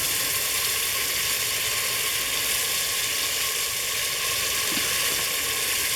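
A steady, loud sizzle and hiss of water added to a hot pan of browned curry tripe, continuous with no pauses or voices.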